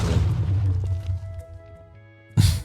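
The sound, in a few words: explosion in Minecraft video game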